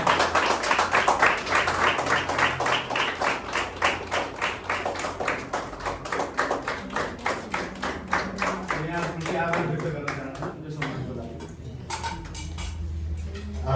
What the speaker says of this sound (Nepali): कृपया जोरदार तालीले सम्मान व्यक्त गर्नुहोस्